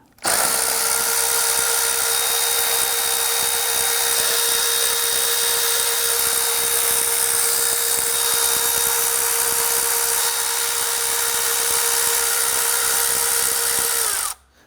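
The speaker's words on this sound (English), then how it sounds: "Next thing we want to do is remove the 7 8mm bolts holding our intake to the lower intake." A power tool whirs steadily and loudly at close range while it backs out 8mm intake manifold bolts on a 2010-2019 Ford Taurus 3.5L, running continuously for about fourteen seconds without a break.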